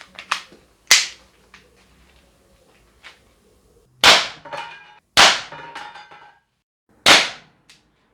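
An Umarex HDR 50 T4E home defence revolver in .50 caliber fires Devastator version 1 rounds, giving several sharp, loud pops spaced a second or more apart, with smaller clicks and impacts in between.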